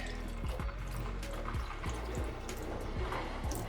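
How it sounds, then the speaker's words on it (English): Water is poured into a pot of yarn dye heating on a hob, a steady continuous splashing and trickling with small drips throughout. "And just add a bit more water"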